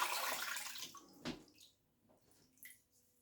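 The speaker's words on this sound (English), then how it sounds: "I'm going to put a little bit of cold water" Cold water splashes from a tap onto an alum block, a brief gush followed by a few scattered drips, close and fairly quiet.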